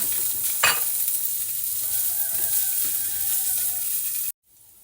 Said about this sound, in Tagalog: Igisa ko na tong aking sibuyas at ang ating ginger at ang ating garlic